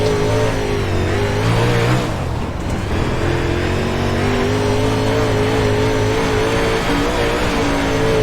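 The steady, loud roar of a big-block modified race car engine at speed in a racing game mod, holding a constant tone with a small pitch dip partway through.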